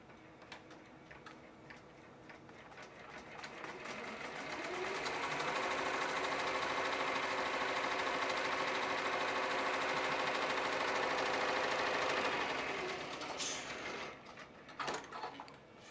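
An embroidery machine stitches a hat with a fast, steady ticking hum. It builds up, holds a constant loud run for several seconds and then winds down. Faint clicks and handling noises come before and after the run.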